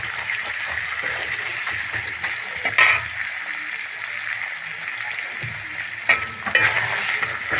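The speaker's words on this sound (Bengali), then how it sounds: "ছোলাগুলো আমি ভালো করে ভেজে নেবো" Chickpeas fry in a pan with ginger and green chilli paste, giving a steady close sizzle with stirring and a couple of sharper spattering bursts partway through.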